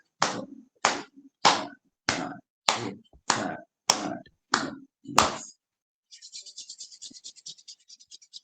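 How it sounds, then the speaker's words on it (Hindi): About nine sharp hand claps in a steady, even rhythm during a yoga session, close and loud, followed by a soft high hiss once the clapping stops. "अब तालियां बजाएंगे 10 बार।"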